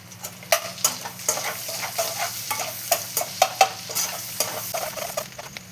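Chopped garlic fries in melted butter in a pan for white sauce pasta. A bright, close sizzle is punctuated by repeated spoon-on-pan clinks and scrapes as it is stirred.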